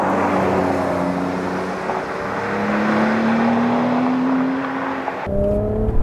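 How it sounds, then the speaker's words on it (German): A Porsche 992 Carrera S (911) engine pulls hard under acceleration, its tone rising steadily from inside the car, then drops as a gear change lands and the revs climb again. "Der Motor ist viel direkter und aggressiver."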